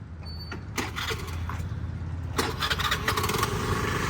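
A heavy tractor engine cranks and catches, settling into a low, rough rumble with rattling bursts over it.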